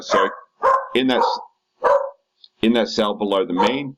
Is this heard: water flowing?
no